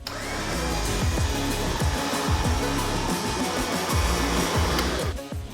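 A Rugged Ridge 9500 lb winch with synthetic rope, mounted on the front of a 2007 Jeep Wrangler JK, runs with a loud steady motor whir and rhythmic mechanical clunks throughout, then winds down at the very end.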